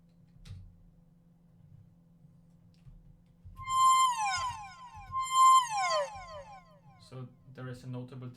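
FL Studio synth notes using slide, two bright descending pitch sweeps that bend downward in quick succession over a low steady drone, followed by a short burst of other sound near the end.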